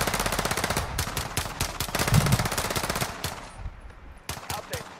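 Rapid rifle fire in a multiplayer shooter, loud bursts of close shots that pause briefly and then return as scattered single cracks.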